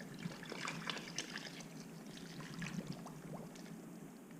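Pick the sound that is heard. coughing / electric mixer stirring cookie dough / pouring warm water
pouring warm water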